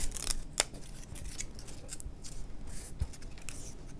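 A razor blade held almost flat to a table slices a bevel along one side of material for a model P-40 aircraft, giving quiet scraping strokes with a sharp snip near the start.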